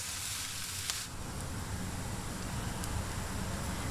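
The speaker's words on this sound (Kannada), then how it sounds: "ಇದು ಚೆನ್ನಾಗಿ ಫ್ರೈ ಆಗಬೇಕು" Bitter gourd fries in a pan with a steady, even sizzle throughout, close and moderately loud, with a faint clink near the start.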